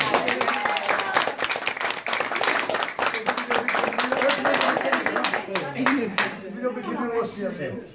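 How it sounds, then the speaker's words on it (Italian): Applause and clapping from guests at a 100th birthday party, a dense crackle of many hands filling the room, with people talking and cheering over it before it thins out toward the end. "Un applauso."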